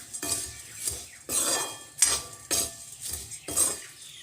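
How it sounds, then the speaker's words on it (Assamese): A spoon clinks and scrapes against a bowl while spices such as sambar masala and amchur powder are mixed for puffed rice masala, in several distinct bursts of close metallic stirring. "আৰু এতিয়া এইখিনি মই ভালকৈ মিক্স কৰি ল'ম"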